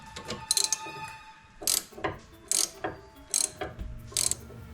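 A ratchet loosens strut bolts on a 2014 Ford F150 front suspension: five or six crisp, close bursts of rapid clicking, evenly spaced, with quiet pauses between strokes.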